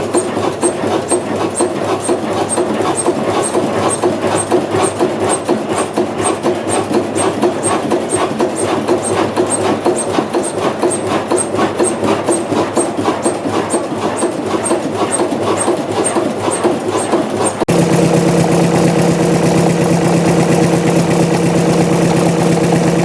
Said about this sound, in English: Is a two-stroke stationary diesel engine manufactured in Denmark, designed for high-demand continuous applications